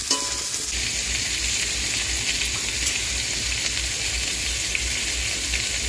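Fried potatoes and green banana pieces sizzle loudly and steadily in a pan for a village-style fish curry, a dense, close crackle that holds constant throughout.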